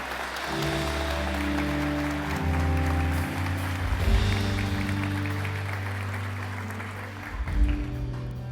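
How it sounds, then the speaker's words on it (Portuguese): A church congregation claps loudly and steadily throughout, with sustained musical tones underneath and a brief swell near the end. "Você pode aplaudir Jesus bem forte?"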